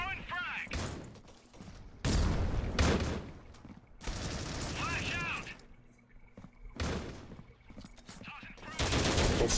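Gunfire in Call of Duty Mobile during a competitive match on the Canals map: repeated bursts of automatic fire and shots in clusters separated by short gaps, with a commentator's voice running over them.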